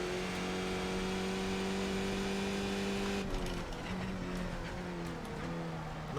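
A Skip Barber race car engine in iRacing drones loudly and steadily, then drops pitch as the driver shifts and rises again while accelerating back on the throttle, with tyre and track noise beneath.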